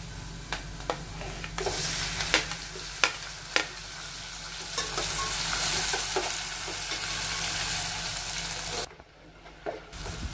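Tomatoes and softened onions sauté in a pan for a dryfish curry, a steady close sizzle with a few sharp spoon taps and scrapes, ending in a brief quieter moment.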